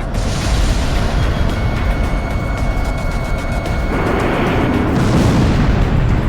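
A missile hits its target in Ace Combat X, making a loud, sustained roaring blast that swells and deepens partway through.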